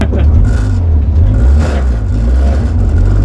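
A Ford Sierra Cosworth Group A rally car with a sequential gearbox drones loudly from inside the cabin, a heavy, steady low engine rumble that barely changes pitch across the short stretch.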